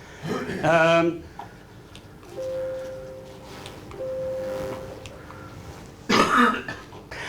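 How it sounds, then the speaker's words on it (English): A throat clearing near the start, then a quiet stretch with a faint steady hum, and a second harsh throat-clearing burst near the end. "I'm going to clear my throat."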